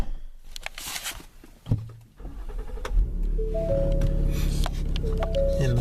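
A car engine cranks and catches after a few short clicks and knocks, then settles into a steady idle hum close by, with a brief whining whir like an electric window motor near the end.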